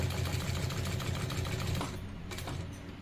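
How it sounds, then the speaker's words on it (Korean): A Sunstar KM-D1640BL-7K industrial sewing machine stitches steadily at close range, its even mechanical hum and rapid needle chatter running continuously before easing slightly in level toward the end. "차츰차츰 안쪽으로 들어가는 방법으로 제봉을 해볼 겁니다"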